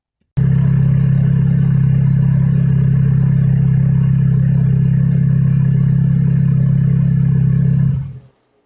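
Chevrolet Cavalier with an Ecotec engine idling steadily just after a spark plug replacement, a loud, close, even low drone that holds for about eight seconds, then cuts off; no voices.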